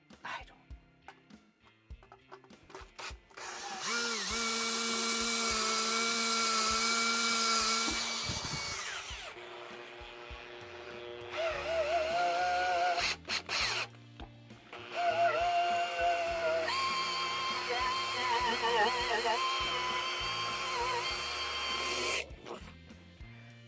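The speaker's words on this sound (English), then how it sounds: "I can't drill through it with this" A power drill whines as it tries to bore through a tubular lock, running in three long, strained bursts separated by short pauses and quieter gaps.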